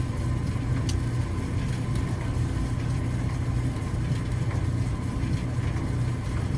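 A gas Maytag Neptune dryer starts up with a steady, even low hum and rumble that holds at constant loudness throughout.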